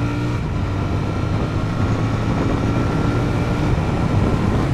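A Royal Enfield Super Meteor 650 motorcycle pulls hard at full throttle in second gear on a straight road, its engine a steady, loud, dense drone with strong low rumble and wind roar that holds constant throughout.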